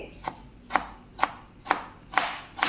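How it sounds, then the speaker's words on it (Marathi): A knife chops a tomato finely on a cutting board, six crisp knocks at a steady, unhurried rhythm, close and clear with no talking. "आपण टमाटर कापून घेऊया टोमॅटो आपल्याला बारीक का चिरायचा आहे"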